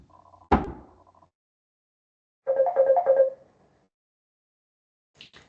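A sharp knock or thud opens the clip. A short, melodic phone ringtone for an incoming call then plays for about a second in otherwise quiet surroundings, followed by a faint high chirp at the end.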